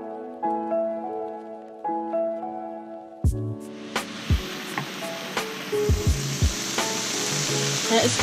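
Yellow squash with broccoli hits a hot pan and bursts into loud, steady sizzling, with a few knocks of a utensil against the pan as it fries; music plays softly underneath.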